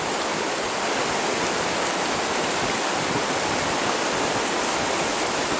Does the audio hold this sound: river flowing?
yes